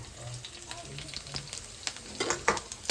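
Curry leaves, garlic and chillies hit hot oil in a pan, giving a steady close sizzle with stirring scrapes and sharper crackling bursts that build toward the end.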